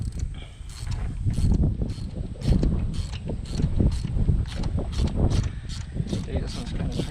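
A ratchet wrench works a tight spark plug loose from an engine, sending out a run of quick, regular clicks in short bursts over a low mechanical background.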